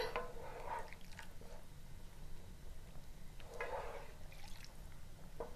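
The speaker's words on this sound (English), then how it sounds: "Let's add water." Water poured into a pot of curry on the stove, two short splashing pours with faint trickling between them, close and fairly quiet.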